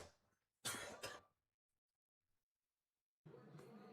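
A sportscaster at a women's college basketball tournament broadcast coughs twice in quick succession, close to the microphone. Then comes a long quiet gap before talking resumes at the end.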